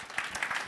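A seated audience at a French-language Canadian panel discussion applauds the panelists, a brief, faint patter of clapping heard from a distance.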